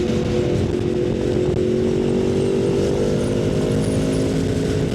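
A motorcycle rides along with a steady, droning engine hum and rushing wind noise, continuous and close, with no voices heard.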